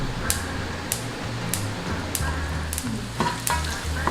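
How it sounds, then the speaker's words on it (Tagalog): Pork belly frying in oil, a constant close sizzle broken by sharp regular clicks from a spatula or tongs, with no voices. "Ipa-fry po natin yan."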